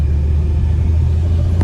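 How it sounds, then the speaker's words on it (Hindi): Engine of a Maruti Suzuki Wagon R with 270,000 km on it, heard from inside the poorly insulated cabin as the car is pushed: a loud, steady low rumble with a faint rise at the end. "इस गाड़ी में जो है इंजन की नॉइस वो अंदर फील हो रही है"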